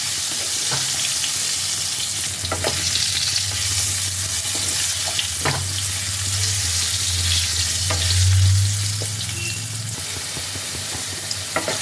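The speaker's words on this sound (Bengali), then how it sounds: "এই সব কিছু দিয়ে আলুগুলোকে একটু লাল লাল করে ভেজে নেব" Potato pieces coated with a little turmeric fry in hot oil for a cauliflower curry, a continuous close crackle and hiss broken by occasional clicks of stirring, no one speaking.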